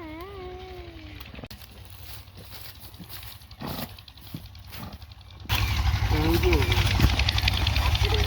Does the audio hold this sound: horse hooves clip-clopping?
yes